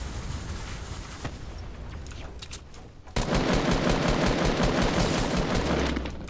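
Rapid automatic gunfire bursts in a Fortnite match, sparse shots first, then a dense, loud sustained volley of fire that runs to the end, with no talking.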